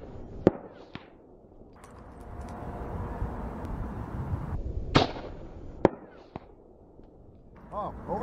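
Outdoor shots from a Phoenix .22 LR pistol fired at a distant steel plate target, sharp isolated cracks spaced a few seconds apart with quieter background between and some faint talk.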